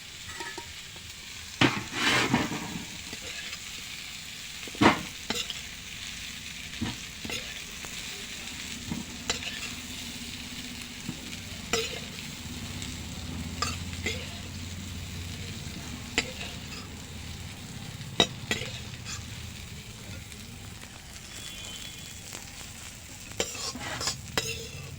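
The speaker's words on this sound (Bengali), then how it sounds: "এখন ইঁচড় আর আলুটা ভাজছি আমি।" Jackfruit and potato fry in an oiled pan under a constant sizzle, while a spatula stirs, scrapes and knocks against the metal now and then. A low rumble swells briefly midway.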